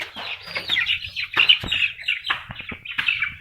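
A Mullan breeding-stock rooster and hens cluck and call in close, loud bursts, the chatter rising and falling across several short phrases with no talk.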